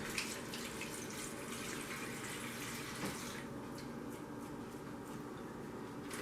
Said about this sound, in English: And let me rinse my hands off real quick.